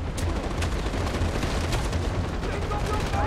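Gunfire in the Far Cry 4 video game, rapid repeated shots and booming blasts packed densely over a loud, continuous game soundscape.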